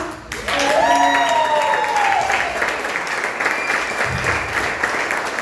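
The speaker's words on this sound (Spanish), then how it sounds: "den un fuerte aplauso" A church congregation breaks into a steady wash of applause during a Spanish-language service, the clapping continuing at an even level while a voice sings or speaks over it.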